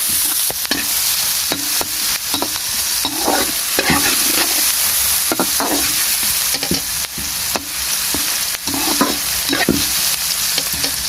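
Okra and onions fry and get stirred in a pan for bhindi sabzi, a loud continuous sizzle broken by frequent scraping and clacking strokes of the spoon, close up with no talking.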